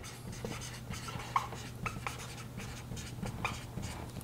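A pen scratches steadily across paper while notes are taken during a lecture on microvascular health, soft rhythmic strokes over a low steady hum, close and faint with no voices.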